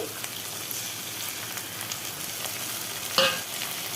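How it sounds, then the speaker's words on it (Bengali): Garlic and ginger paste frying in a pan with chopped onion and tomato, a steady close sizzle with a few soft stirring scrapes and one sharper clink near the end. "এবার রসুন বাটা আর আদা বাটাটা দিয়ে দিচ্ছি।"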